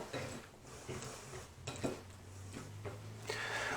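Roasted-cauliflower florets are tossed with oil in a bowl, giving soft clinks and scraping knocks of a utensil against the dish in several short bursts, quiet and close.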